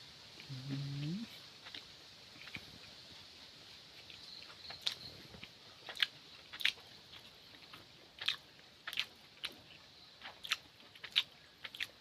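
Someone chewing and biting into food, with sharp crunchy bites repeating irregularly, close and distinct over a quiet background. A short voice is heard briefly near the start.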